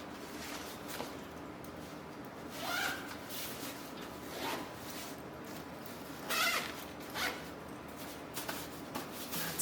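Zipper on the expansion compartment of a Peak Design travel bag being opened, a few quiet short zips mixed with fabric rustling and shuffling, close and soft, with no talk.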